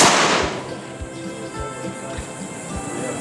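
One sharp, loud rifle shot opens the moment of a long-range precision shoot at a ranch, followed by a rolling outdoor echo and a few faint dull thumps.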